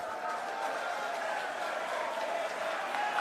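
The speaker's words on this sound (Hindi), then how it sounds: "आप सभी दोनों हाथ उठाकर ताली बजाकर स्वागत करें।" A rally audience claps to welcome Arvind Kejriwal in Raipur, a dense, steady wash of applause and crowd noise held at an even level throughout.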